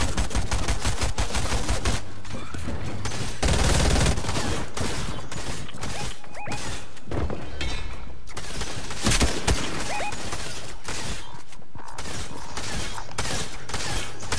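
Loud, dense volleys of video game gunfire hammer away almost without pause, with rapid overlapping shots and clattering impacts filling the whole stretch as enemies open fire on the player.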